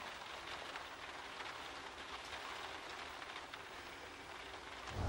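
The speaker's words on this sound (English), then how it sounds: "Oh, no, it's raining." Rain falls in a steady, faint hiss outdoors, a continuous patter with no distinct drops standing out and no voices over it.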